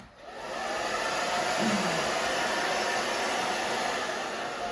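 A hair dryer runs steadily while drying hair for a pixie undercut mohawk style, a loud continuous airy whoosh holding at a constant level throughout with no voices.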